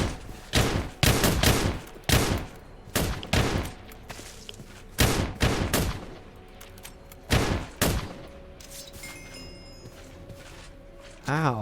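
Gunfire hits the player in the video game Scape and Run in loud, close bursts of rapid shots. Several volleys come a second or two apart, then the shooting fades into quieter background noise.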